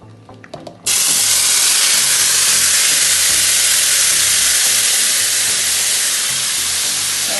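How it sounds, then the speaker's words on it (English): Oxtail hits a hot greased pan and a loud, steady sizzle bursts in, holding strong and close for several seconds after a brief quieter moment of handling. "once this is heated, then you're going to throw the oxtail in there"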